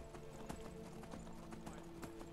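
Horse hooves clip-clop in Skyrim Special Edition at a steady walking rhythm, about two crisp strikes per second, heard close over a constant hum of game ambience.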